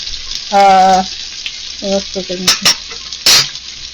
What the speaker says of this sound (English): I'm going to fry these pork steaks once they're breaded into the oil here